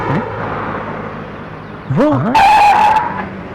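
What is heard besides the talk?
car arriving and skidding to stop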